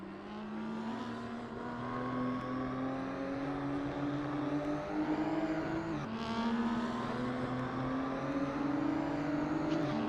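Race cars lapping Sepang South in a sim racing game, engine notes droning steadily and rising in pitch through upshifts, with a sustained whine over about ten seconds and no voices.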